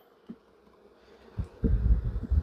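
Honey bees buzz softly around an open hive during an inspection, the hum faint at first and then swelling louder and closer with handling noise, with no voices.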